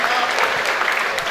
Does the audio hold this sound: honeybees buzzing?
no